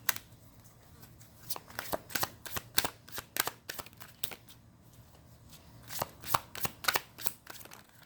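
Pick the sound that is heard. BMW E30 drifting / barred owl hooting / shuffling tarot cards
shuffling tarot cards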